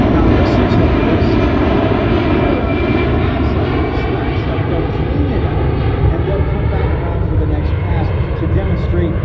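Loud, steady roar of a C-17 Globemaster III military transport's jet engines, the military version of the 757 airliner engine, during an airshow demonstration, sustained broadband rumble with no break and no talk over it.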